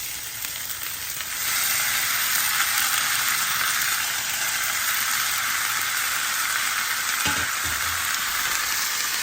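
Boiled flat beans hit a hot garlic tempering and fry with a loud, steady sizzle that swells after the first second and holds close and continuous, with a brief knock of a utensil near the end and no talking.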